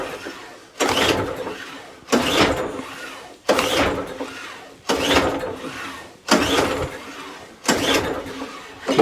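Someone repeatedly tries to start a Mountfield Empress lawn mower, a trash-picked machine with carburetor trouble, making six evenly spaced pull-start attempts, each a short rising engine burst that dies away.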